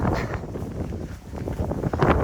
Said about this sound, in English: it is already windy